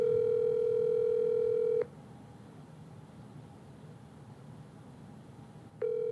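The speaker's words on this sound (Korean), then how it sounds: "전화를 한번 해보도록 할게요" A telephone ringback tone while a call is dialed: a long steady tone, then a pause of low hiss, then the tone starting again, clear and alone.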